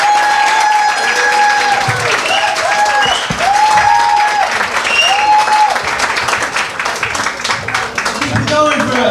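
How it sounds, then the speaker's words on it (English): A comedy-night audience at a funniest reporter contest gives the evening's host a long, loud round of applause, a dense steady roar of clapping with crowd noise and a voice calling out over it. "Please put your hands together, give a warm, thunderous applause to your MC for the evening, Mr. Jeffrey Gurian."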